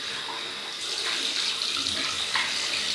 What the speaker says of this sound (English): Just rinse these whiskers away.